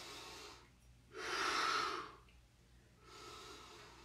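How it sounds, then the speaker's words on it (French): Deep breaths during a home workout session: a slow inhale, a long full exhale, then another inhale, airy and close, with quiet pauses between and no talking. "On prend notre respiration."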